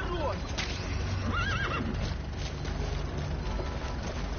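A horse whinnies with a rising, wavering neigh in the Metal Gear Solid video game, heard over steady game ambience and a low rumble, with a voice talking alongside.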